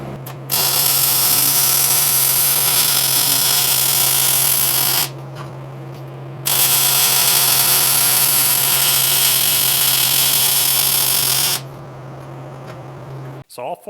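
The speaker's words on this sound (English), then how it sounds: "I'll just weld this all together." Welding parts of a shop-made pipe welding positioner, a loud steady crackling hiss in two long runs separated by a short pause, close by over a low hum.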